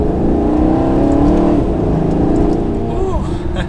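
A Maserati GranTurismo Sport engine pulls hard under acceleration, heard from inside the car as a loud, steady, throaty drone that holds for the whole stretch.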